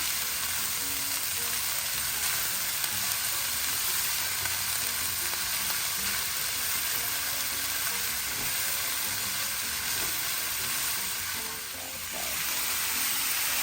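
Vegetables for pancit cook down in a pan over a medium-high flame, giving a continuous, even sizzle and fry hiss that runs close and steady throughout.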